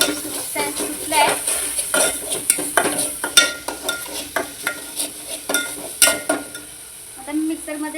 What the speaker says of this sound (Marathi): आता हा मसाला तेलामध्ये चांगला फ्राय करून घेऊ आपण